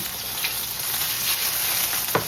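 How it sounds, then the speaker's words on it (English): Pierogi frying in a pan give off a steady, close sizzle with a brief clatter near the end, and no voices. "I'll let these ones get to frying"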